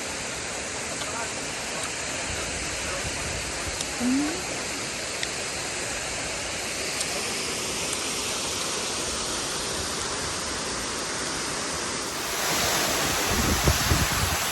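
A waterfall in Laos gives off a steady, loud, broad roar of rushing water that fills the whole stretch, with some wind buffeting on the mic and a brief faint voice.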